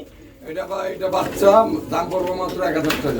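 Pigeons coo steadily at a pigeon farm, with several birds calling close by in a continuous, layered murmur and a voice speaking over them.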